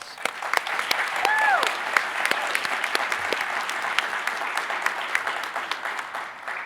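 An audience at a plenary awards session gives the awardees a lively round of applause, with crisp individual claps standing out from the steady clapping and a brief whistle early on.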